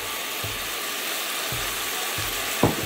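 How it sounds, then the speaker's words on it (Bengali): Vegetables sizzle steadily in a pan with sweet chili sauce and soy sauce as they are stirred, with a few soft knocks from the utensil and a brief clack near the end. "দিয়ে আবারও খুব ভালো করে নেড়ে নিচ্ছি"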